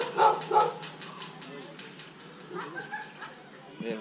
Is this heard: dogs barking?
yes